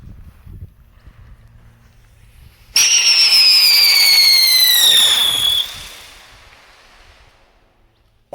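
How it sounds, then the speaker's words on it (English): A flying gem firework shoots off with a loud, sustained whistling shriek that slowly falls in pitch for a few seconds, then fades away into quiet. "we're gonna go ahead and see how this flying gem firework does"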